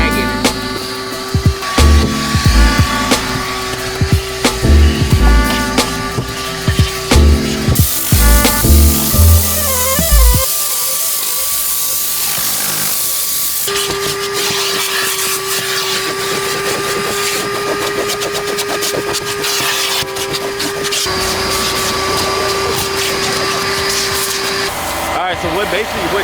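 A Tornado compressed-air cleaning tool blasts dust and dirt out of the crevices of a car under detailing, giving a loud, continuous hissing rush with mechanical whine, running for long stretches alongside speech.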